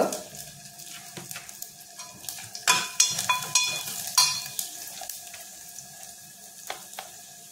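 Asafoetida, crushed garlic, curry leaves, turmeric and red chilli powder sizzle in hot oil for masoor dal, a steady crackling fry with clinks and scrapes of stirring rising in the middle, no voices.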